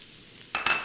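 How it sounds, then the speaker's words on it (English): Chopped onions hitting hot oil and butter in a pan, a sudden close sizzle that flares in two quick bursts after a quiet moment. "let's add some oil to the butter. Turn it up. We want to put in the onions"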